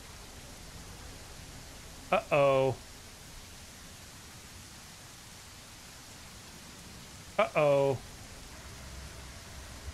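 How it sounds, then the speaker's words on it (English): Steady, even rain hiss fills a scene in the survival video game Surroundead, continuous and moderately loud, with a voice briefly exclaiming twice over it. "Man, this rain is crazy."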